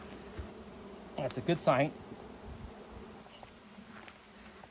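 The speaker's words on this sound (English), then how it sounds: "It's definitely loud, so lots of bees." A honey bee hive hums with a loud, steady buzz from many bees, the beekeeper's hive holding a honey super. The drone runs continuously, with a brief stretch of nearby talk over it.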